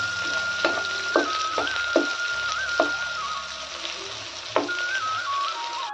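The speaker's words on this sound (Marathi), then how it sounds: "लाल होईस्तोवर परतून घ्यायची आहे" Onion sautés in a pan until browned, giving a steady sizzle and frying hiss while a utensil stirs and scrapes with several soft knocks against the pan, close and unaccompanied by talk.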